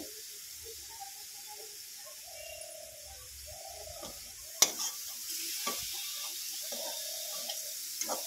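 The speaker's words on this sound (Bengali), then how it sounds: "এভাবে নেড়ে চেড়ে আমি নারকেলের পুরটা বানিয়ে নেব" Sugar and coconut filling being stirred and fried in a pan gives a faint sizzle with occasional spoon scrapes and knocks. Doves coo softly in the background.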